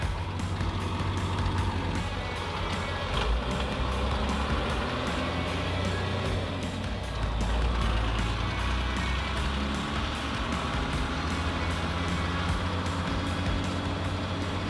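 A vehicle fitted with a LiTime LiFePO4 battery is driven around, giving a steady, continuous road and engine rumble with a low drone throughout and no talking.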